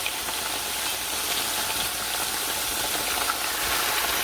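Sliced potatoes fry in oil in a pan for a Spanish tortilla, giving off a steady, even sizzle that holds at close range without pause.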